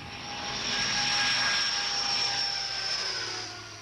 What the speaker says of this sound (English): the press is taken by chartered aeroplane to Belgium